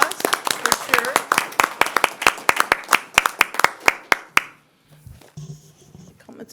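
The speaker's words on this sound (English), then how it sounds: "It's a round of applause for sure." An audience at a Sacramento Metropolitan Fire District meeting claps in a sparse round of applause, distinct individual claps in a quick steady rhythm for about four seconds, then it stops, followed by faint room noise and a brief low voice.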